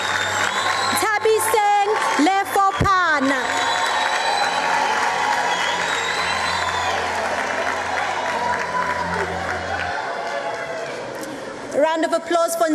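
Audience applause and cheering at a matric results announcement ceremony, a continuous loud roar of clapping with whoops and crowd noise, and bursts of speech and shouts near the start and end.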